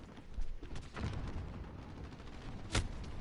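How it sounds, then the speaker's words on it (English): A grenade explodes in Call of Duty: Modern Warfare, a sharp boom near the end that follows scattered gunfire and rumble, fairly quiet overall. "Grenade out."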